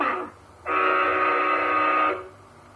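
A talking toy plays a ship sound effect: a short tone, a brief pause, then a sustained loud horn-like blast of about one and a half seconds that cuts off cleanly, alone without speech.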